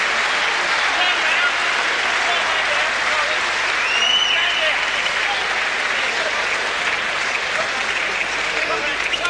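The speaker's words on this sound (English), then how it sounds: "the crowd are giving him the applause that he deserves" Sustained applause from a boxing crowd at a light-heavyweight bout, steady and dense across the whole stretch, with a commentator talking over it.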